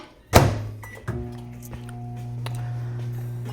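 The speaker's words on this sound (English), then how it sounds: "And then that goes in the microwave." A microwave door shuts with one sharp thunk, followed by a second softer knock and then the oven's low steady hum with faint ticks, all with no talk.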